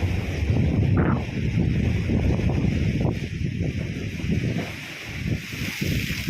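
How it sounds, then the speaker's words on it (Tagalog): Strong wind buffets the microphone in heavy low rumbling gusts by the sea while flying a kite, with a rushing outdoor roar that swells and dips throughout. "So, malakas pa rin hangin dito."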